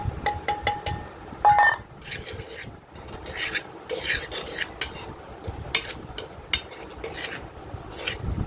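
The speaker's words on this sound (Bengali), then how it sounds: "তারপর সেই মশলার মিশ্রণটা সরিষার গুঁড়োর মধ্যে ঢেলে দিচ্ছি।" A spice mixture is poured into mustard powder and mixed with a spoon in a bowl, giving rapid gritty rasping and scraping strokes with a few light clinks, close and unaccompanied by speech.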